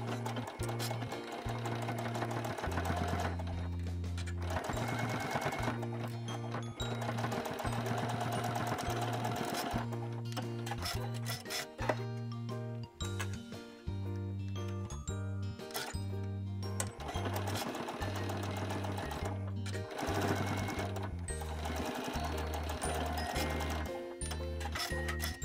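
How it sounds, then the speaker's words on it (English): A sewing machine stitches along the edge of fabric for a kinchaku drawstring project bag, running in steady rapid bursts separated by short pauses, close and clear without talk. "Now sew along the edge on both sides."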